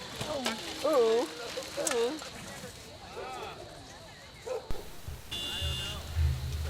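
Dogs in Bhutan barking in short sharp bursts, several yaps spread across the scene with ambient street noise and a low hum behind them.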